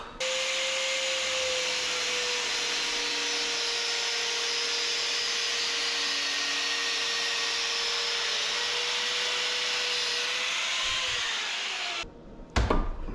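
An angle grinder cuts into copper wire with a loud, sustained high whine and a faint steady tone beneath it, running continuously before cutting off abruptly near the end, followed by brief clatter.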